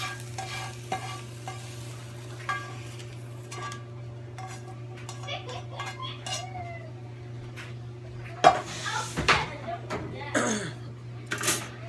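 Eggs frying in a pan at the stove, a soft steady sizzle under scattered utensil scrapes and clinks, with a low hum throughout and a few louder clatters near the end.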